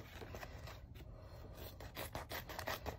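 Scissors trimming excess fabric around the edge of an embroidered ear headband, a run of quick dry rasping snips and scrapes, close and fairly quiet, quickening toward the end.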